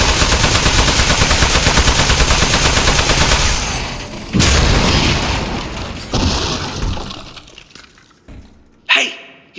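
Turrets in the video game Aperture Desk Job fire rapid, dense bursts for several seconds, then stop. A few sharp impacts follow, each fading into near silence. Nobody speaks.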